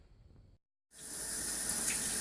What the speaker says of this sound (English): I'm rinsing a piece of the filter